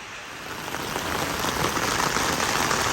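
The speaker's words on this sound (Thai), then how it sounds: "นี่เป็นฝนตกเด้อครับ" Heavy rain pours steadily during flooding in Warin Chamrap, Ubon, a dense, loud hiss of drops hitting surfaces that swells slightly over a few seconds, with no voices.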